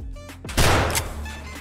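A single loud, close gunshot boom in the video game Escape from Tarkov, with a short, noisy decay over steady background game ambience.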